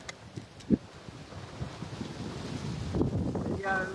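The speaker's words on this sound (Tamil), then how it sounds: "காத்து இப்படி அடிக்கிறது" Strong wind blows outdoors, buffeting the microphone with a constant low rumble and roaring gusts that swell toward the end, with a brief faint voice and a few small knocks.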